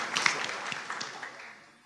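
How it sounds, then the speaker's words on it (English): A quick round of applause from the crowd at a teacher town hall in Birmingham, a brief burst of clapping that thins and fades away within about two seconds. "I think we need to give them a quick round of applause for that"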